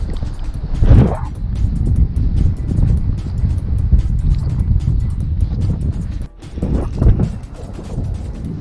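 Steady wind buffeting the microphone on a windy day while kayaking on open water, a continuous low rumble with gusty swells and a brief dip near the end.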